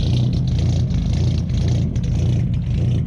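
A Renault 20 Dakar replica's engine and exhaust while driving, a loud, steady low drone with slight revving pulses and rattling vibration inside the car.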